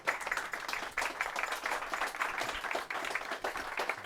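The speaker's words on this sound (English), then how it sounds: "Why don't we give Ranj a round of applause to begin with" An audience claps at a talk on diversity, a moderate round of applause heard from a little distance with a steady patter that swells and eases a few times over about four seconds.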